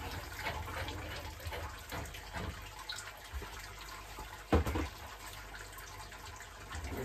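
Water draining out of a Grainfather all-in-one brewing system into a hose or drain, a steady gushing and splashing wash with a brief louder slosh midway, no speech over it.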